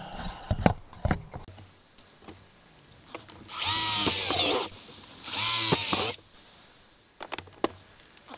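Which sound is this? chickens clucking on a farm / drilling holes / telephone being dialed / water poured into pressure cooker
drilling holes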